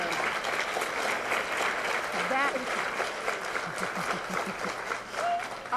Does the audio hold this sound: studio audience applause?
yes